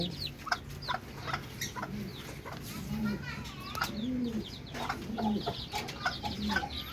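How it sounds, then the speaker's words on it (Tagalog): Backyard poultry: chicks cheep in quick high chirps around a mother hen that clucks low and repeatedly, close by, while a person talks over them. "ito na po guys yung ating mga sisiw"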